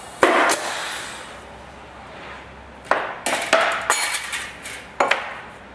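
A Tippmann Clicker 1500 press cuts aluminum with a steel rule die, giving a sharp metallic clack and then, after a pause, a cluster of clinks and knocks as the die slides out, close and alone without speech.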